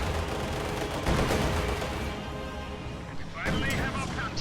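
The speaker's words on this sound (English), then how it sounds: "T-34 fires on the T-70." A T-34 tank fires on a T-70 in a World War II strategy game, bursts of cannon and gunfire cracking amid ongoing battle noise under a commentator's voice.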